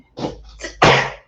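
A single close, loud human sneeze, with a short breathy build-up followed by a sharp explosive burst, heard alone.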